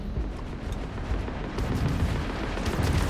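A dense, rumbling blast fills the scene in the Starfield game, with heavy low-end boom and crackle that holds at a steady loud level the whole time.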